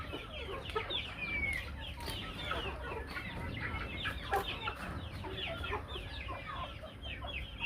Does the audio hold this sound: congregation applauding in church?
no